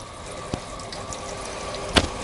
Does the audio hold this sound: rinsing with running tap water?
yes